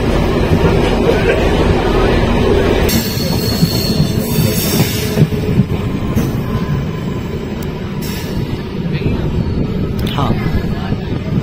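A Moradabad–Ramnagar passenger train runs along the tracks at its top section speed, with loud steady rumble, clatter of wagons and occasional wheel squeal, while a voice talks over it.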